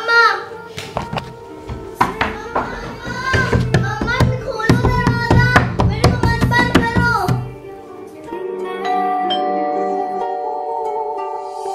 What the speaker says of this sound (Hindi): दरवाजा कौन पीट रहा है? इतनी शोर की आवाज कहां से आ रही है?